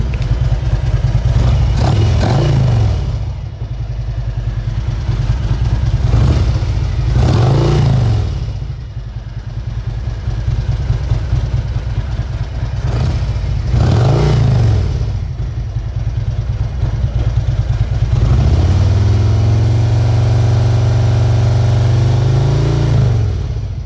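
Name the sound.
motorcycle engine struggling to start and revving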